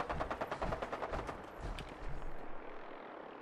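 Rockets are fired in Fallout 4, heard as a loud, rapid string of whooshing, rattling bursts over a heavy rumble that tapers into a fading roar.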